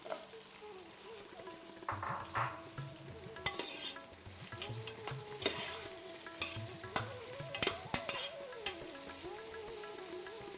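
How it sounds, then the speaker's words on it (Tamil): Onion paste sautéing in a pan for coconut milk rice, with frequent spoon-stirring scrapes and clinks over a steady sizzle; a voice hums or speaks faintly now and then. "இது அப்படியே வதங்கட்டும் வெங்காயம் பேஸ்ட் போட்டோம்"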